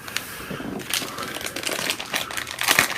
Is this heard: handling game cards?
yes